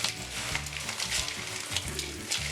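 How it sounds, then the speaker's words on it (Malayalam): Spicy Kerala mixture snack being tossed and stirred together, a steady dense rustling and scraping with rhythmic bursts every half second or so, close and fairly quiet, with no voices. "നല്ലവണ്ണം എല്ലാം കൂടി ഒന്ന് മിക്സ് ചെയ്യണം."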